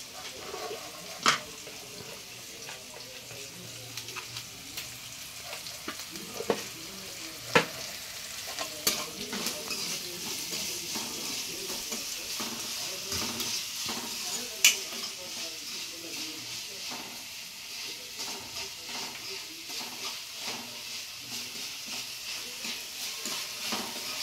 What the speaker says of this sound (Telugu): కొంచెం సాల్ట్ వేసుకున్నాం. ఉల్లిపాయలు తొందరగా మగ్గుతాయి.